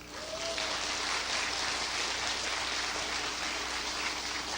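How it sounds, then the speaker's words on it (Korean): A church congregation at a youth worship service applauds after the praise music, a dense, steady wash of clapping that fills the whole stretch at an even level. "하나님께 영광의 박수 올립시다."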